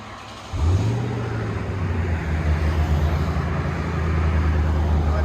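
A 2002 Ford Crown Victoria with a 4.6L V8 and Vibrant resonators cranks and catches about half a second in, then settles into a steady, deep, close idle rumble that holds loud to the end.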